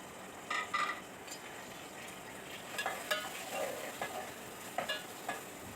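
An onion frying in a cooking pot while being stirred: a soft, steady sizzle with intermittent close scraping strokes of the spoon against the pot, no talking.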